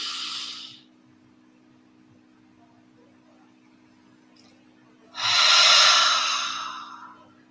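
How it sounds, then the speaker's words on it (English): Slow, deep breathing through the nose during a relaxation exercise. A long, close breathy rush is followed by several seconds of near silence, then a second long, airy breath that gradually fades. "And on our last inhalation through the nose"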